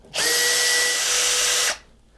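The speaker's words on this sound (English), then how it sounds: "I'm going to take out my alignment screws just so that the screws themselves aren't providing any resistance" Power drill removing alignment screws from a laminated guitar neck, a single loud whine lasting about a second and a half with a steady pitch, then cutting off, heard alone.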